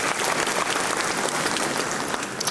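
Audience applause for a Supreme Court justice at a university law school honorific lecture, with dense, steady clapping from a crowd that fills the whole stretch at a strong, even level.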